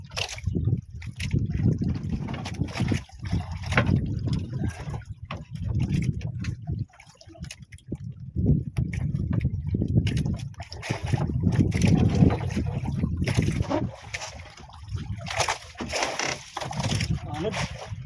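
Wind gusts at sea rumble against the microphone in uneven surges over lapping water, with a voice talking now and then underneath.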